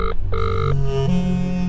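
A telephone rings with repeated electronic trill bursts, loud and close, followed by a steadier tone, no voices.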